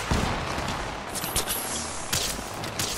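Gunfire fills a firefight in the video game Fallout 4, with dense overlapping bursts of shots and booming impacts that stay loud and continuous throughout.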